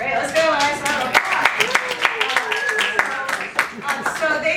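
Audience applause at an improv show, a dense patter of clapping hands that rises and fades in waves, with some voices mixed into the crowd noise.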